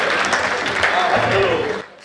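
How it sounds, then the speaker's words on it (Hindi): An audience at a Hindi poetry gathering honoring poet Maithili Sharan Gupt bursts into dense applause that holds steady, then drops off abruptly near the end. "एक बार तालियां बजाओ।"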